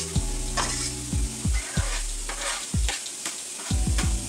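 Garlic sizzles loudly in a hot pan while a utensil stirs and scrapes, with repeated low knocks and clatters against the cookware in an uneven rhythm.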